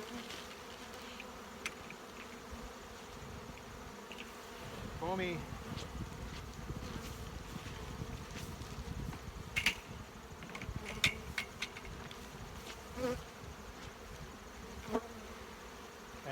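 Honeybees buzzing steadily around an opened hive on a foggy morning, a dense insect drone with individual bees zipping close past now and then.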